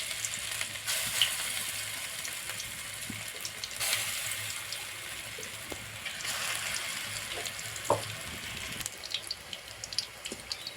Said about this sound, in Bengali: এখন বড়াগুলো এইরকম ছোট্ট ছোট করে কেটে তেলের মধ্যে ছাড়বো।